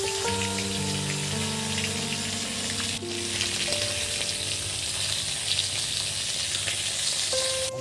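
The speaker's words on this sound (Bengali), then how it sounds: "বন্ধুরা মাছ ভাজা তুলে নিচ্ছি" Pieces of rohu fish frying in hot oil give a steady, dense sizzle that carries on without a break, close and fairly loud, with a faint tonal hum underneath.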